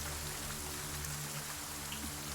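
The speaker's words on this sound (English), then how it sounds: "So rain splashing down all around you guys," Rain ambience plays during a tabletop Advanced Dungeons & Dragons session, a soft, even patter of drops falling on surfaces all around, faint and continuous with no voices over it.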